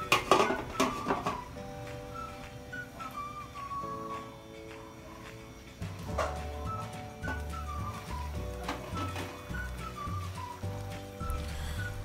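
A metal lid clanks onto a cooking pot of catfish adobo with vinegar, a brief clatter at the start, followed by a steady background of soft tones and faint kitchen noise.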